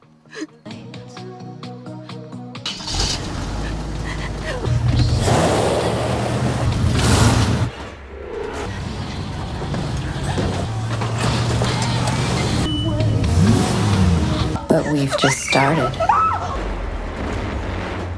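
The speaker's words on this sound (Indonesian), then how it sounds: "mobil mereka pun nyocol ke sebuah trailer setelah dilempar oleh sesuatu" A car slams into a trailer in a film scene after being flung by something, with heavy crashing impacts and rumbling bursts spread across the scene. Dialogue is spoken amid the loud, chaotic destruction.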